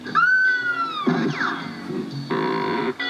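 Hanna-Barbera cartoon rubber stretching effect: a wavering, bending tone that slides and warps, followed by twangy rubbery boings, loud and close.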